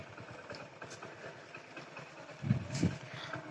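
A motorcycle engine idles steadily with a low, continuous rumble throughout, fairly faint, with a couple of slightly stronger throbs near the end.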